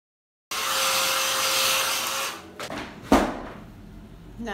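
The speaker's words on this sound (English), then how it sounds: "basically what I'm gonna do is blow dry my hair like this" A hair dryer blow-dries short hair in a steady, close whooshing roar for about two seconds, then the airflow wavers and breaks into uneven gusts and a brief thump as it moves around the head.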